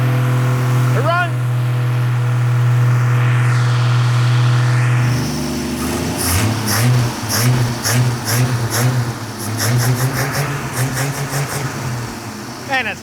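A supercharged 1962 Slant Six engine cranks and settles into a loud steady idle on a dyno, then rises into choppy, repeated revs that stay capped below a limit, with a voice briefly talking over it.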